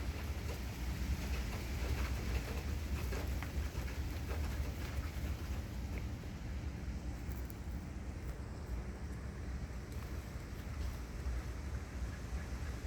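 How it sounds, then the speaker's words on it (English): Rain during a severe thunderstorm in southeastern Pennsylvania: a steady, broadband hiss of rainfall and wind, fairly faint and continuous, with no voices. "here comes the rain again"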